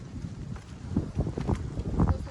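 Low, gusty wind buffeting the microphone, rising and falling in uneven bursts through the short stretch.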